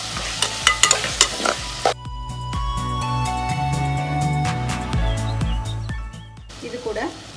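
Onion, medium potato and medium tomato sauté in a pan for cauliflower biryani, with close scraping stirs at first, then a steady sizzle and crackle, and more stirring at the end.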